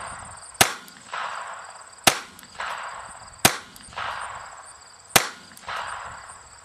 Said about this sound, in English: Take careful aim at the center of your target and fire a careful 3 or 5